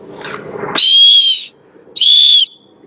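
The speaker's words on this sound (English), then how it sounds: "This is an Acme whistle, Acme tornado whistle from England." Two loud, shrill blasts close by from an Acme tornado whistle made in England, the first about a second long and the second shorter, with a brief pause between them.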